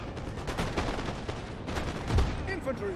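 Cannon fire in Napoleon: Total War, a dense, continuous rumble of booming reports layered over battle noise, with someone speaking throughout.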